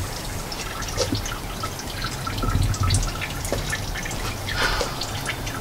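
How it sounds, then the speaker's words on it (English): Used engine oil drips steadily from a car's drain during an oil change, with irregular small drip and trickle sounds over a low background rumble and no one speaking. "it sounds like it's at kind of like a steady drip"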